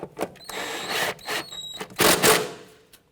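A bolt being snugged down on the ABS wire bracket of a 2011-2015 Kia Sorento front strut, heard as short whirring bursts from a power tool with clicks and pauses between them, close and moderately loud.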